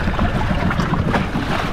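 An outboard motor runs close by on a boat, a steady rumbling drone mixed with wind buffeting the microphone and water noise, brief and loud with no voices.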